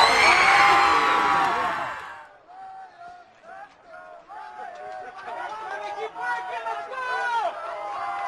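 A stadium crowd at a CIF Division 1 high school championship game roars loudly at first, then the noise drops to excited yells and whoops under a commentator's talking.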